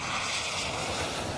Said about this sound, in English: the wind, it's gusting up